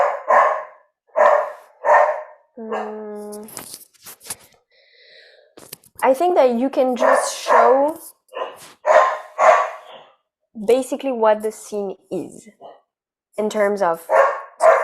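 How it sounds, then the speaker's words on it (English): A dog barks several times nearby, short sharp barks breaking in among people talking in a room. "I'm sorry about the dog."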